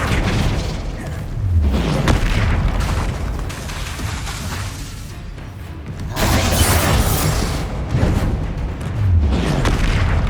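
Flipendo knockback spells cast in Hogwarts Legacy on PS5, several loud booming bursts with crackling impacts, separated by short gaps of rumbling combat noise.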